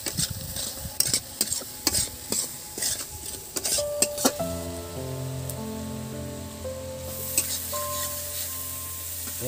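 Green chillies frying in a pan as they are stirred, with quick scraping and clinking strokes over a crackling sizzle, then a steadier sizzle with a faint tonal hum as the stirring stops.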